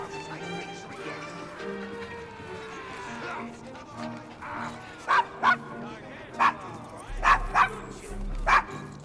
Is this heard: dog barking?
yes